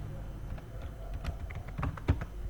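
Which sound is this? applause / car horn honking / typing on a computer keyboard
typing on a computer keyboard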